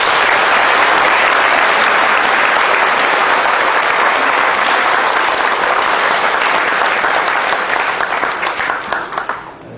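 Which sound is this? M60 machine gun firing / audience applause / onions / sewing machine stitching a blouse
audience applause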